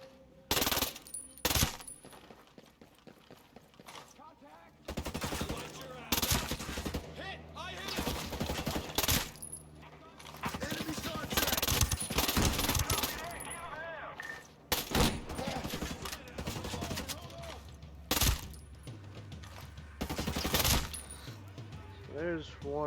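SMG fire in Ghost Recon Breakpoint comes in loud, rapid bursts of varying length, separated by short pauses, with a voice talking underneath at times.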